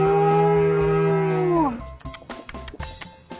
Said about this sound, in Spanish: ¡Oh, una vaca!